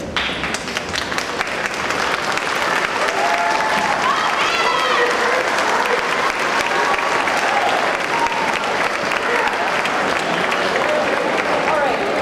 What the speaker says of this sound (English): clap for everybody who has made the time to come and spend it with you